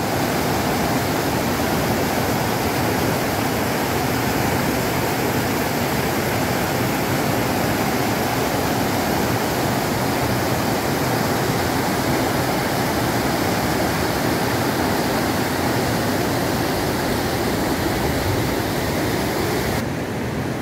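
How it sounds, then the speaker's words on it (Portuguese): Rushing rapids of the Itajaí-Mirim river in Botuverá roar loudly and continuously at close range, a dense broadband wash of churning whitewater with no talk, dropping off abruptly just before the end. "Isso é o rio Itajaí-Mirim, furioso"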